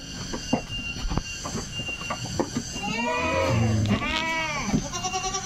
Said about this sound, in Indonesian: Ini juga ada kambing